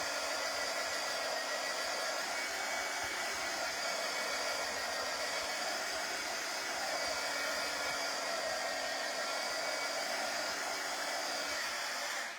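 A dryer roars in a constant, close, even hiss while it dries ink on a DIY Easter t-shirt. There are no voices and the sound stays steady until it cuts off at the end.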